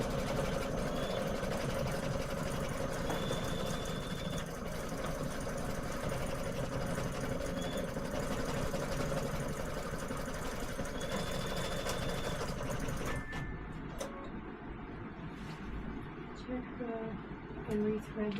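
An embroidery machine stitches a tea towel at a relaxed pace of about 600 stitches per minute, giving a steady, close mechanical whirring drone that runs continuously and then cuts off near the end, leaving quieter room sound.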